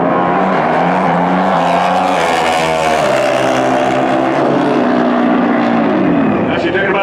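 A Pro Stock drag racing motorcycle on a qualifying run screams loudly and close. Its engine pitch sweeps up and then falls as it passes and shuts off, with a track announcer talking over the roar.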